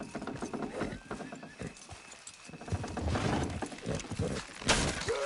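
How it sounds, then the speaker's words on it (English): Horses' hooves clip-clop in an uneven rhythm as a team pulls a load, with a horse neighing briefly and some mechanical creaking and rattling alongside. "Good horses."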